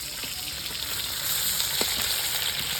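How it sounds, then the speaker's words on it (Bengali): Lata fish sizzles steadily in hot oil, a close, continuous crackling hiss with occasional pops and no talking. "মাছগুলো ভাজা হয়ে গেছে"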